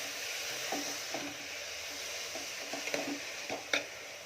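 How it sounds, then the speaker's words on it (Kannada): Grated carrots fry in ghee with a soft, steady sizzle. Light stirring scrapes and a clink from the pan sound now and then, close and fairly quiet. "ಈಗ ಇದನ್ನು ಈ ತುಪ್ಪದಲ್ಲಿ ಹುರ್ಕೊಳ್ಳೋಣ ಈ ರೀತಿ."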